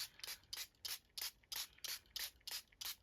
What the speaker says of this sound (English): definitely give your paints a spray